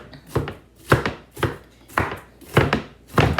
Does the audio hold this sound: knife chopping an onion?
yes